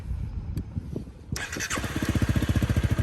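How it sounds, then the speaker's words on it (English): A Honda CRF300L Rally motorcycle engine cranks briefly with a few ticks, then fires and settles into a close, steady pulsing idle. "I'm going to start the bike"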